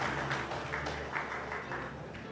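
Applause welcomes former Haryana chief minister Bhupinder Singh Hooda at a 2024 Haryana election event: a steady, fairly quiet wash of many hands clapping that holds evenly without a clear peak.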